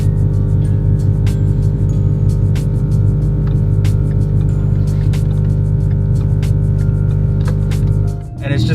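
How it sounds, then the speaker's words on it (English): Air Lift Performance 3P air suspension compressor on an S550 Mustang running with a loud, steady droning hum and buzz, constant for several seconds before cutting off near the end. "the other thing I don't like is just simply that the air compressor is really loud."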